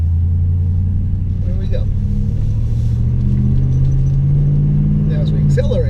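A 2018 Toyota Tundra with a BAmuffler exhaust accelerating, a loud low engine rumble rising steadily in pitch as it revs, heard from inside the cab with someone speaking briefly.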